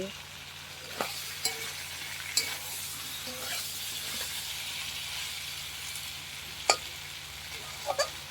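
Meat curry bubbling and sizzling in a pot while being stirred, a constant hiss with occasional spoon scrapes and knocks against the vessel, close and moderately quiet.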